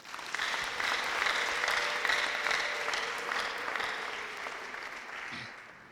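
A congregation at a church prayer service breaks into sustained applause, a loud, dense wash of clapping that holds steady for several seconds before slowly thinning out, with no one talking over it.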